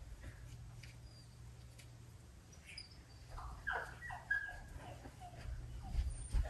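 A dog that won't come out lets out faint, high, thin whimpers in the second half, over a low steady hum with no talk.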